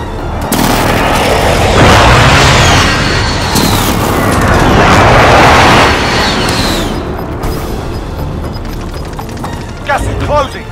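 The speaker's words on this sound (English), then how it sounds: "Be advised, friendly precision airstrike inbound." Precision airstrike explosions pound down in Call of Duty Warzone on Rebirth Island, a loud, heavy barrage of booms in two big waves that fades into scattered gunfire, with radio voices heard over the blasts.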